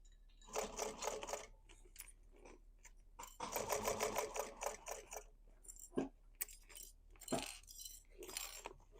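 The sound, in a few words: sewing machine stitching a basket seam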